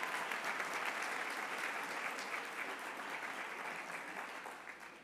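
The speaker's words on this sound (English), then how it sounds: "How about a nice round of applause for Peggy and her outstanding job" An audience applauds at a 2023 service recognition awards ceremony: steady, dense clapping for about five seconds that slowly fades, heard alone.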